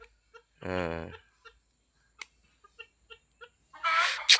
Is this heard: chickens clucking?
yes